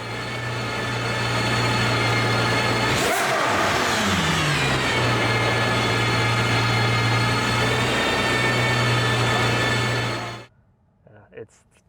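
An Aston Martin Valkyrie hypercar engine runs loud and close, a steady droning note broken by a sharp rising rev around the middle, then holding before cutting off abruptly near the end.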